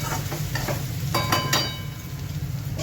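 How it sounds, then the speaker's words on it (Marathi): Sliced okra stir-fried in a hot pan for a mixed okra and cowpea-leaf vegetable dish, giving a steady close sizzle broken by a few scraping spatula strokes, with no talking. "भेंडी पण चांगली परतवून घ्यायची."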